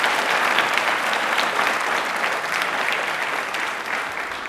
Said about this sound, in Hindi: तालियां बजाना चाह रहे हैं भाई, तालियां बनती है फिर तो